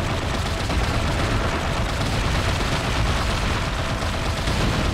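Dense, continuous gunfire from guns in the video game Bayonetta, a loud unbroken roar of rapid shots and booms filling the whole stretch with no voices.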